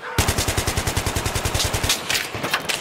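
Automatic gunfire in the video game Battlefield 3 rattles in a rapid, even burst of about two dozen loud shots, then stops and gives way to scattered, fainter noise.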